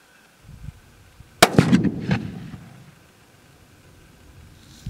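A single sharp, loud rifle shot from a .22-250 Remington firing a 53-grain bullet into a row of milk jugs, followed by a short rumbling echo that fades out.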